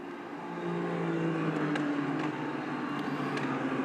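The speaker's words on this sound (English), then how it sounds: "So the background there is the train of GT3s." A train of GT3 race cars passing on the track at Spa-Francorchamps, their engines a steady distant whine and roar that swells within the first second and holds, with no one speaking.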